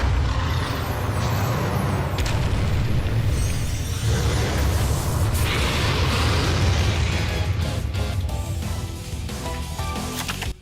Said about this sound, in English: You get to summon Blue Eyes White Dragon.